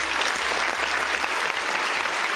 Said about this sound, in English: Let's give this guy a round of applause.